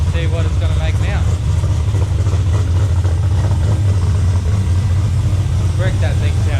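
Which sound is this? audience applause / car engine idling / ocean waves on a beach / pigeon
car engine idling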